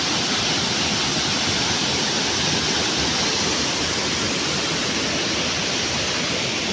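Dagook Falls in Catigbian, Bohol, Philippines pours in a steady, loud rush of falling water, a dense unbroken roar close by with no voices over it.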